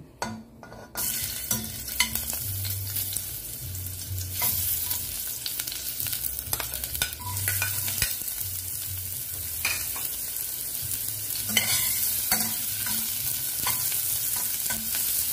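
Ginger, garlic and onion sizzle in a little hot oil, with steady frying and repeated stirring scrapes close up and no talking.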